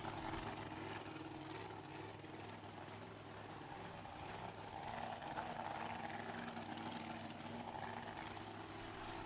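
A racing drag boat roars in a steady, loud engine drone at an IHRA outlaw drag boat race in San Angelo, a continuous high-powered run heard from a distance with no talk over it.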